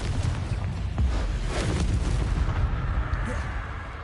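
A Confringo fire spell in Hogwarts Legacy sets off a burst of booming blasts and crackling explosions that rumble loudly and continuously.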